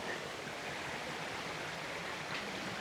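A river flows over stones with a continuous broadband rush of water. It stays steady and moderately quiet, with no voices.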